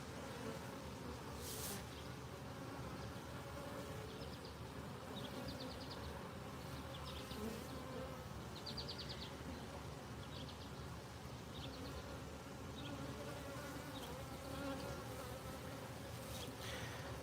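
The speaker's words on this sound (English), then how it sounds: "Look at that bee right there enjoying the honey." Bees buzzing around freshly harvested honey on a farm, a steady swarm drone with individual insects flying close by in brief louder passes.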